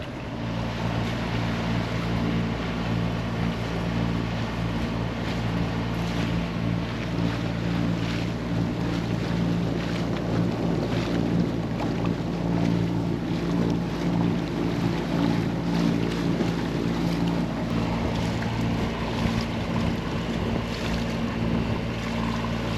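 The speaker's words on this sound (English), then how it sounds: "we're going right into a 10-knot wind, so we're not getting to sail today" A sailboat motoring off Antigua straight into a 10-knot headwind, its engine droning steadily and close throughout, with wind buffeting and water rushing along the hull and no voices.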